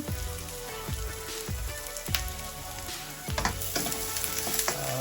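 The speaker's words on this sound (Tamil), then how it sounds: "சின்ன வெங்காயம் நீங்கள் சும்மா போட்டு சமைச்சாலே ரொம்ப டேஸ்ட்டாக இருக்கும். ஸோ ஃப்ரை ஆகட்டும்." Small shallots sizzling in a pan while prawn curry is cooked: a steady crackling hiss with regular stirring knocks from a utensil striking the pan, close and continuous, with no talking.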